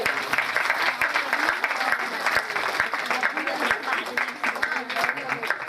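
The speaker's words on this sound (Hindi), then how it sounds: "सभी लोग उनका ताली बंधन करके अभिनंदन करेंगे।" Audience applause at a community ceremony honouring local achievers, a steady dense clapping that fills the whole stretch at an even level, with a few sharper individual claps standing out.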